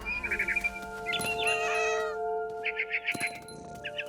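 A cat in a video game, What Remains of Edith Finch, gives several short meows, then a longer drawn-out yowl over steady background tones, followed by more quick meows; clear and close.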